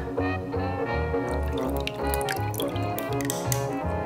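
A drink poured into a glass for a rosemary-smoked cocktail, with soft trickling and dripping liquid under louder background music.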